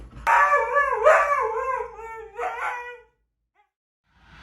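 A dog howls on command, one long, close, wavering howl of about three seconds that rises and falls, followed by quiet. No one speaks.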